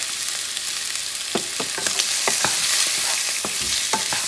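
Shrimp stir-frying in a pan for pancit bihon, with soy sauce and pepper added, giving a steady sizzle broken by repeated scraping and clacking of a utensil against the pan, close and fairly loud.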